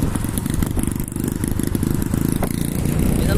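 A Yamaha XT motorcycle with its carburetor out of tune runs close by, its engine chugging and stumbling unevenly with irregular pops and clatter.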